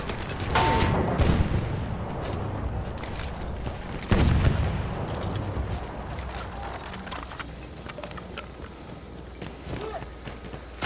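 Grenade explosions thunder during a World War I Battlefield 1 assault at the St. Quentin breach: a heavy boom early and a second big blast near the middle, over constant battlefield rumble, distant gunfire and clatter.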